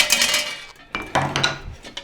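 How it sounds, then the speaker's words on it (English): Small bolt cutters snipping off bolts on a homemade hand scoop, giving several sharp metallic snaps and clinks in quick, uneven succession, close and fairly loud. "I'm gonna take these little bolt cutters and nip these off"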